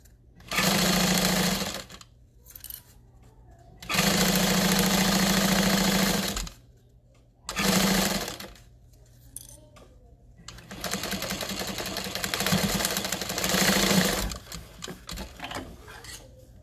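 A sewing machine stitching a tote bag, running in loud steady bursts of whirring hum with short pauses between seams, up close and without talking.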